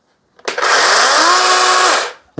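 A DeWalt 20V MAX XR 12-inch cordless chainsaw revs up, runs at a loud steady high-pitched whine for about a second and a half, then spins down.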